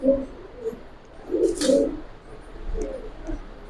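Giribaz and coloured pigeons at a pigeon sale coo softly in low, rolling bursts, with a brief sharp noise in between and quiet surroundings.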